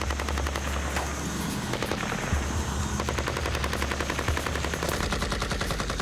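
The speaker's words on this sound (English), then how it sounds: "Gunshots going off outside." Rapid bursts of gunfire crackle in the distance outside an aircraft over a constant low engine drone, the shots coming in quick irregular volleys.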